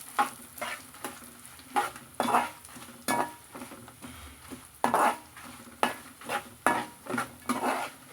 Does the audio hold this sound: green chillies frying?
yes